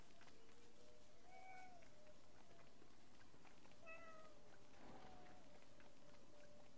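A kitten in the game Don't Starve meows several times, short high calls spaced a second or two apart, faint and close over a soft, steady background hiss.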